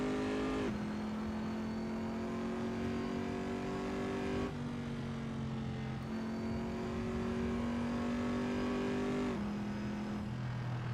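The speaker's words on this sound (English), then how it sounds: "So I'm sure you guys are enjoying the sound of this engine." Car engine in Assetto Corsa on the Nordschleife, a steady high-pitched race engine howl holding long notes with a few sharp gear-shift drops, continuous and fairly faint with no talk.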